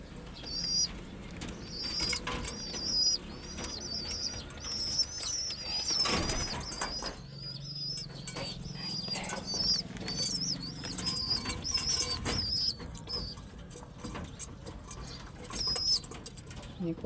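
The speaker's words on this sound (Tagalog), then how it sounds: "Ini pong kalapati ko po." Pet pigeons flap their wings in repeated bursts close by, with soft cooing and chirps woven through and scattered bumps and rustles nearby.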